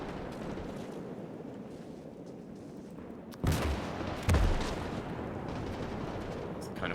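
Gunfire and artillery in a WW2 Pacific video game battle on Saipan: a continuous rumble of distant battle noise, broken by two sharp, loud blasts near the middle, each followed by a brief rolling decay.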